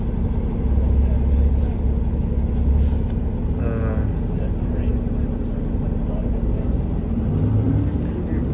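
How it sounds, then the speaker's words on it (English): Low engine idle and rumble fill the interior of a 19 Bay city bus waiting to turn, with a brief whirring mechanical sweep midway and talk in the background. "You can join me on this live bus ride on the 19 Bay"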